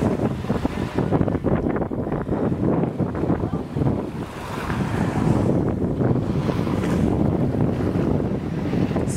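Ocean waves washing onto a beach at sunset, a steady broadband surf roar heavy with wind buffeting the microphone, continuous and fairly loud throughout with no talk.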